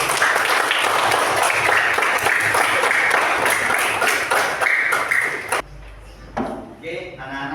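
A classroom of 4th-grade children applauds together, a loud, dense burst of clapping that cuts off sharply near the end, followed by a few scattered claps and quiet room noise.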